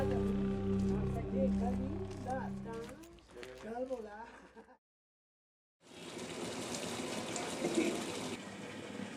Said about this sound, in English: The sound of running tap water is the greatest music to the Tibetans' ears living in Sinjali.